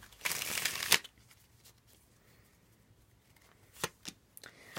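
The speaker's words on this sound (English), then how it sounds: "One more shuffle." A deck of cards is riffled in one quick burst, then a few soft snaps and taps as the cards are squared, close and quiet.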